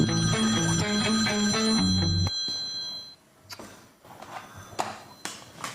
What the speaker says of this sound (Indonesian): Ada telepon.